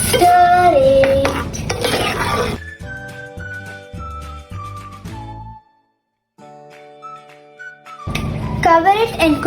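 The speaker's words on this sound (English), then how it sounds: "stir it." Spoon stirs sundakkai vathal kuzhambu in a cooking pot after onions, coriander water, turmeric, jaggery and water go in; scraping and sloshing come at the start and end, with tonal background music in between.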